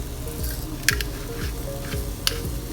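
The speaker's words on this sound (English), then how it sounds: "So basically I'm just sauteing them." Mushrooms sauteing in a pan with salt and assorted peppercorns, giving a steady low sizzle throughout with a couple of sharp clicks from the pan or utensil.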